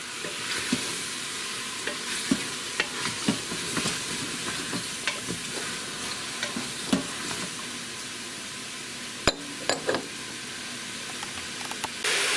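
Mushrooms sautéing with black pepper in an Instant Pot, stirred with intermittent sharp taps and scrapes of a utensil against the pot over a steady faint sizzle.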